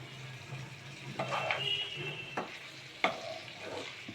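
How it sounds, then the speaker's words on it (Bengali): Garlic-marinated chicken fries in a pan with fried onions, a soft steady sizzle under occasional scraping stir strokes and light clatter, fairly quiet and close. "তো চিকেনটাকে কষিয়ে নিচ্ছি।"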